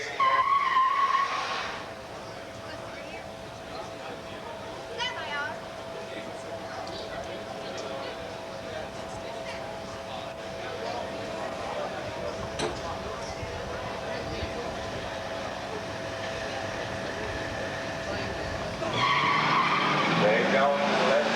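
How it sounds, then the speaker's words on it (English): A Dodge Daytona drag racing car at the starting line of a 1985 muscle car drag race at Beech Bend rumbles and revs loudly, with tire squeal, under an announcer's voice over the track speakers. "Come to the line now is a Dodge Daytona 60."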